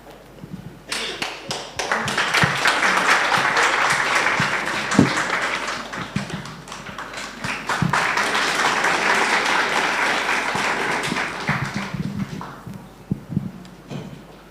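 Audience applauding at an award presentation during a memorial lecture, dense sustained clapping that swells twice and tapers off into scattered claps.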